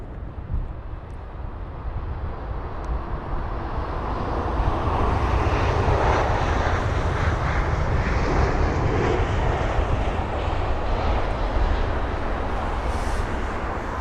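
A jet aircraft at London Heathrow roars steadily as it passes, a broad, loud rushing drone that swells after a few seconds and holds strong, with wind buffeting the microphone.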